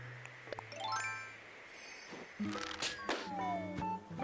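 A present balloon in Animal Crossing: New Horizons gives a soft tinkling jingle of chimes amid other light game tones and sweeps, faint and brief, with a voice briefly in the background.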